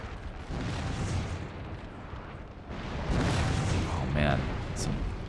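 Dense musket volleys and booming battle noise in the video game Napoleon: Total War, a continuous rumbling roar of massed fire with some sharper cracks, while a voice talks over it.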